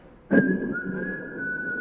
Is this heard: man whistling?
yes